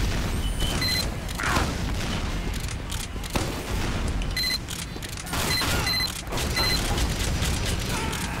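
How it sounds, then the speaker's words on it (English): Sticky bomb explosions in the video game Team Fortress 2, heard as repeated booming blasts mixed with gunfire and mechanical game noise, with bright chiming effects at intervals, all loud and continuous. "I'll put sticky bombs over the base."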